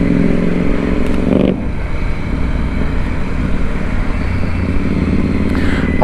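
A Royal Enfield Interceptor 650 engine runs steadily at low revs while ridden on a test ride, a loud continuous rumble with wind noise and no speech.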